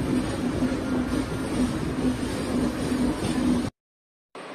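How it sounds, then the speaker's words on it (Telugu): A crowded passenger train pulls out of Begumpet railway station, heard from inside as a loud, steady rumble with wind noise and a faint rhythmic clatter, cutting to silence briefly near the end. "ఇప్పుడే బేగంపేట రైల్వే స్టేషన్ నుంచి అయితే స్టార్ట్ అయింది ట్రైన్."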